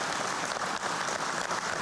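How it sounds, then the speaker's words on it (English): Studio audience giving a warm round of applause for Bathurst 1987 race finishers, a steady dense wash of clapping at moderate level throughout. "Give them a warm round of applause."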